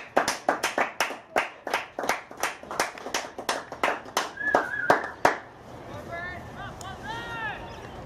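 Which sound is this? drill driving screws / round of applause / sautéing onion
round of applause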